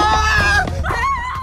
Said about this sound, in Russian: для записи криков испуганных жителей Дейла